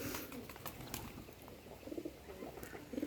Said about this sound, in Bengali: এই যে বাংলা কবুতরে ডাকতেছে